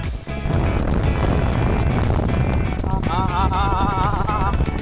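A 390 motorcycle roars loudly and steadily while being ridden, engine noise continuous and close with a higher whining tone rising near the end.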